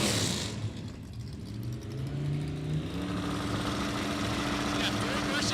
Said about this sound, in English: I can't hear you over this Cougar in the right lane because this thing sounds nasty and I love it